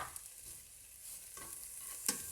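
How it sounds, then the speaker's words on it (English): Chopped garlic, chili and ginger stirred and frying in a pan for a mildly spiced sweet potato and spinach dhal, a soft steady sizzle with a few faint scrapes and one sharp clink near the end. "we're just going to go in with chopped garlic, with chopped chili, and with chopped ginger. Just go put it in, give it a good stir,"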